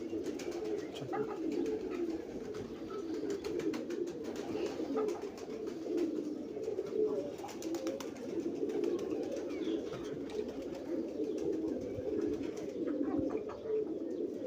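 A pair of teddy pigeons with pied cross markings coo softly and repeatedly, a continuous low murmur of calls close by with no voices.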